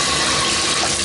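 Hot water gushes hard from a bathtub faucet during a home inspection, a loud, steady, close rushing hiss with no break and no voices.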